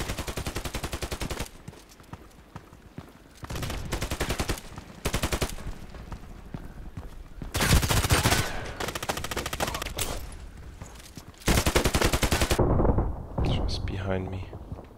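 Repeated bursts of MP133 shotgun fire in Contract Wars, loud blasts in clusters separated by short pauses, with heavy booming stretches and a voice talking over parts of it.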